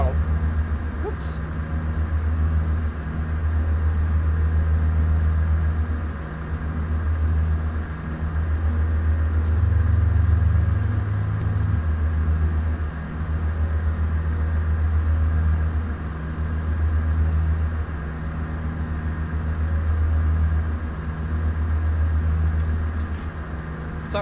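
A steady low drone from an aircraft engine in Microsoft Flight Simulator 2004 hums continuously, with a brief rise in pitch and loudness around the middle when the throttle is bumped.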